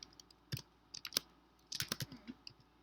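A computer keyboard typing a new folder name: quick irregular bursts of close, crisp key clicks separated by short pauses, with no voices.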